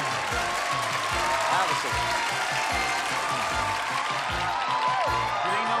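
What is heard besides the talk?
studio audience applause on game show Super Password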